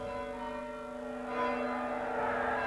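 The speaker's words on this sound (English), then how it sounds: "they rang the bells until they thought everyone within a radius of 10 miles must be awake." Church bells ring on in a steady, sustained wash of overlapping tones, growing slightly louder and fuller partway through, with no voices.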